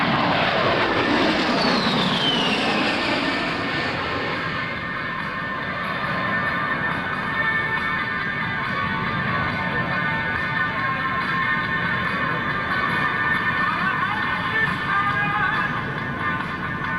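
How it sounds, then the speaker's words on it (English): A-10 Thunderbolt II jet passing at an air show, a loud roaring engine with a falling Doppler sweep as it goes by, then a sustained steady whine and rumble that lingers throughout. "Is now positioning the A-10 for the final approach and landing"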